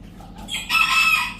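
A rooster, caught and held by hand, crows and clucks loudly up close, a harsh sustained call rising after a short quieter lead-in.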